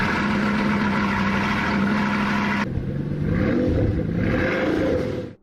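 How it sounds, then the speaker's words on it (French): A Bugatti Chiron's 8-litre quad-turbo W16 engine, 1500 horsepower, runs loud and sustained, a steady drone that shifts partway through into a rising, wavering rev as the pitch climbs and dips. "Le moteur de la Bugatti Chiron est un W16 quadriturbo de 8 litres"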